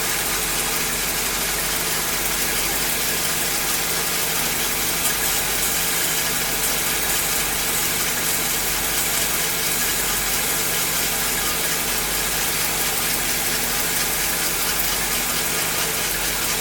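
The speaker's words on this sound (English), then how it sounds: "So let's get the car started" Engine of a 1956 Cadillac Sedan DeVille under restoration idling steadily and loud up close with a continuous low rumble and vibration, water spurting nearby, no talk.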